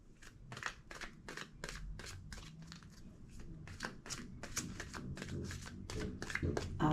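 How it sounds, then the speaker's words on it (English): A deck of tarot cards being riffled and bridged repeatedly, crisp rapid flutters in short bursts, close up with no talking. "2 more shuffles."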